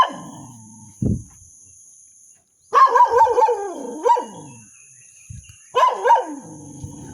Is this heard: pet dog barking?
yes